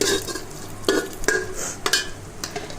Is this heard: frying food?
yes